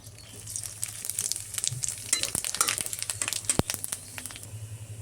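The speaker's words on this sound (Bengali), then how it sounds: "ফোড়নে দিয়ে দিচ্ছি কয়েকটা শুকনো লঙ্কা" Dried red chillies crackle and spit in hot oil for tempering, with irregular close pops and sputters over a soft frying hiss and a few utensil scrapes.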